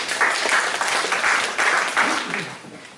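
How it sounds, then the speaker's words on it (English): A conference audience in London applauds a speaker: dense, continuous clapping from a crowd, fairly loud and close, with a faint murmur of voices and the applause thinning toward the end. "A round of applause for Mark, please."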